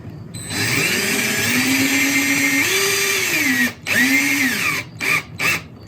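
A power drill drives threaded inserts into a drawing board, a steady whine that rises and falls in pitch, then stops and restarts in short bursts near the end, loud and close with no talk.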